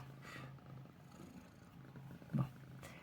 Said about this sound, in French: Mon chat qui s'installe.